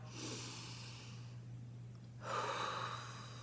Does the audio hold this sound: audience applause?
no